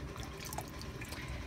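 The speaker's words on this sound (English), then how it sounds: "sometimes I'll dip it back into the cool water" A peeled fruit is dipped back into a bowl of cool water, giving a faint, soft trickle and light sloshing, with a small drip standing out briefly.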